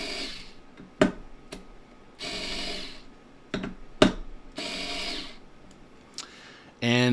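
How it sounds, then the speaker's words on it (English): A torque tool loosens fasteners in short whirring bursts of a few seconds each, interspersed with sharp clicks and knocks, fairly close and moderately loud. "let's go ahead and then loosen up these fasteners"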